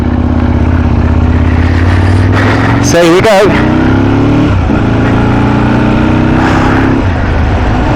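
An Aprilia RSV-R Bol d'Or replica motorcycle on a test ride, its engine note climbing through the revs with a sharp blip and clatter midway, loud and close, under a brief spoken remark.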